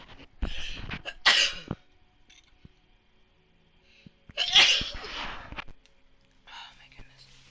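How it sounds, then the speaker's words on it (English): Two sharp sneezes burst out a few seconds apart, close and loud, with quiet breathy sounds and a soft whisper between them. "Oh, feel like I'm gonna sneeze."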